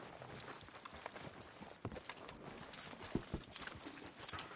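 A horse clip-clops in Red Dead Redemption 2, a quiet, uneven patter of hoofbeats on the ground, close and soft, with no talk over it.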